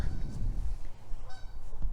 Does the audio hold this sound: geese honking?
yes